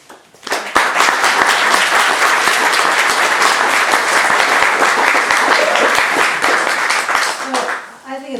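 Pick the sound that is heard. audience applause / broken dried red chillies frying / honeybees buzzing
audience applause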